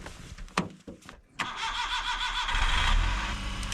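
A frozen K-truck on a cold night gives a few short starter cranks with brief pauses, then catches and settles into a steady, fairly close idle, with faint background noise and no clear talk.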